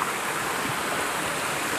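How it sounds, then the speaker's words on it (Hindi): Jibhi waterfall in the Himalayan forest, low in water yet tall, pours in a steady, loud, unbroken roar that fills the whole scene without pause. "पानी कम है पर वाटरफॉल बड़ा है।"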